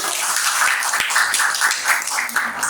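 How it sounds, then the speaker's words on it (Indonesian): A classroom of students claps together, a dense burst of hand claps with a loose rhythmic pulse that carries on steadily for a few seconds without speech. "Oke, tepuk tangan"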